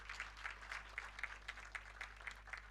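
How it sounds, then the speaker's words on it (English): An audience at a United Nations joint steering committee meeting claps in a soft, steady, rhythmic patter, faint and somewhat distant, continuing evenly throughout. "ladies and gentlemen, let's clap for this day and for having our chair and co-chair present with us in good health"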